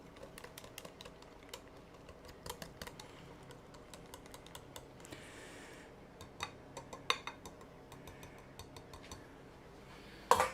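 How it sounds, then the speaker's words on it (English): Yorkshire pudding batter whisked briskly in a bowl for a roast chicken dinner, the whisk clicking in quick rapid strokes against the sides, close up, with a louder knock at the end. "Whisk, give it another whisk"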